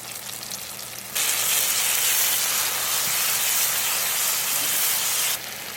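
Onions, tomato, ginger and garlic fry in a pan for a mushroom gravy. A loud, steady sizzle starts abruptly, holds for about four seconds, then drops back to a quieter hiss.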